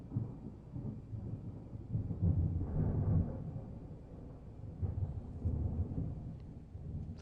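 Thunder rumbling in the video game Deadly Premonition 2 during a snowstorm under dark cumulonimbus clouds, a low rolling roar that swells and fades over several seconds, steady and moderately loud with no talking.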